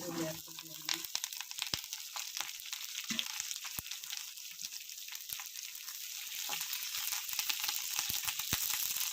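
Garlic, dried red chillies and curry leaves sizzle steadily in hot oil for rasam tempering, a continuous close crackle with occasional sharp pops and stirring clatter, growing slightly louder toward the end.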